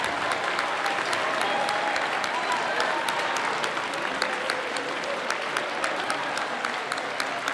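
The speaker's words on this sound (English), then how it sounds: "let's give a round of applause" Crowd at a high school band spring concert applauding, thick sustained clapping from many people at steady loudness that carries on without a break, with faint voices mixed in.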